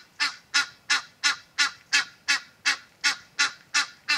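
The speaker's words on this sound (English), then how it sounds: "It's just like random goose in a tree." A goose perched up in a tree honks over and over, about eleven loud, nasal calls in a steady, evenly spaced rhythm. The calls are close and clear and stand alone.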